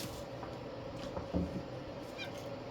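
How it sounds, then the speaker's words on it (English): A cat gives a few short, faint meows close by in a quiet room, with no one speaking. "No, what are you meowing for?"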